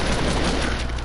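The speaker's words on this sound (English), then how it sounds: "I'll shoot up midair." A dense burst of gunfire in Fortnite played on PS4, loud and continuous over about a second, with no talking.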